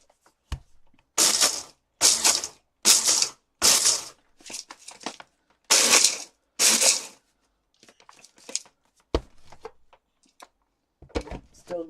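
Chocolate chunks being ground finer in bursts, several loud, close grinding runs of about half a second each separated by short pauses, then a few sparse clicks and knocks toward the end.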